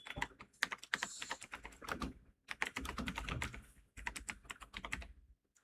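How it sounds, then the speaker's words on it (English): Rapid clicking keystrokes on a computer keyboard while a short text prompt is typed, sounding in three dense bursts separated by brief pauses, close and fairly quiet, with no voice. "Here we are going to type a very simple prompt."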